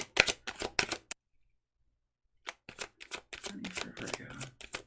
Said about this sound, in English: Okay, let's look at money. One more shuffle.